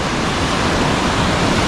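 Ocean waves wash along the rocky, kelp-strewn Encinitas shoreline in San Diego, a continuous broad hiss of surf with no distinct breaks, fairly loud and steady.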